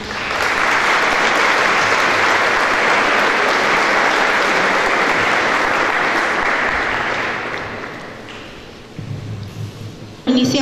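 Audience at a school flag-escort competition applauding, loud sustained clapping for several seconds that fades near the end, followed by a few scattered sounds.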